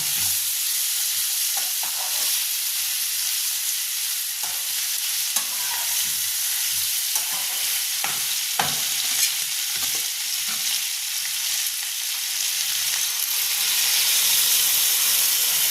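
A little water hits a pan of fried hilsa fish head with pumpkin and potato, raising a loud, dense hiss of steam and sizzling that holds steady throughout, broken by a few scraping stirs.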